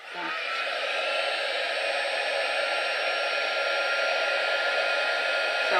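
A heat embossing tool sets gold embossing powder on a watercoloured Stampin' Up! card, giving a loud, steady hair-dryer-like blast of rushing air that runs unbroken for about six seconds with no talking.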